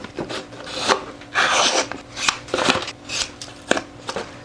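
Paper template trimmed off a piece of wood for a carved swimbait bass lure, heard as a run of close, raspy cutting and rubbing strokes in uneven bursts, with no talk.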